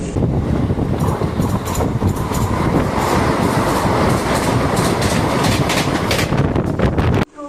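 A MEMU express train rushes past close by, a loud continuous rumble with rhythmic clattering of wheels over rail joints, cutting off abruptly at the end.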